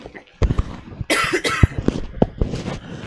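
A person coughs several times in short bursts, loud and close, with a throat-clearing quality and brief breathy pauses between the coughs.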